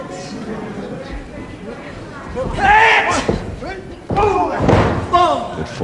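A wrestler's forearm strike off the ropes in a 1974 British professional wrestling bout lands as a heavy slam and thud on the mat, loud and close, with the commentator talking over it and crowd noise behind.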